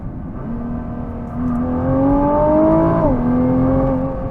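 Nissan GT-R engine revving up in a steady climb that drops briefly then continues, heard from inside the car on a freeway at night, loud and continuous with no talking.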